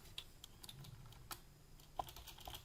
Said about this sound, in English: or I can actually type a value in